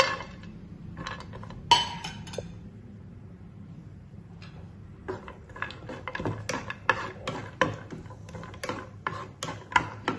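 Light clinks and taps of a utensil against a pan as nuts and almonds are added to hot ghee, coming in scattered bursts, growing busier toward the end, with no talk.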